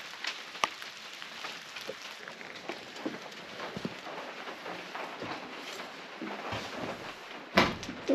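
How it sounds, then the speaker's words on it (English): Rain falls steadily as a soft, continuous hiss with scattered patters and drips, and a sharper thump comes near the end. "The rain's still not letting up though."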